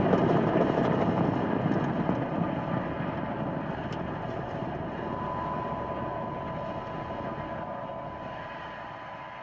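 A SpaceX Falcon 9 rocket with nine Merlin engines lifts off from Space Launch Complex 40 at Cape Canaveral, Florida, a steady broad distant roar that fades slowly over its length.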